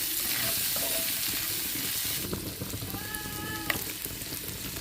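A raw green tomato chutney spice paste fries in hot oil with a loud, dense sizzle that eases into a gentler crackle partway through.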